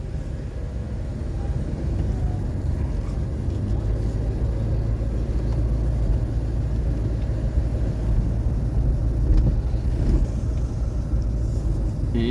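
A 1981 Cadillac Seville pulls away, its low, steady engine rumble and road noise filling the car's interior with no clear voices.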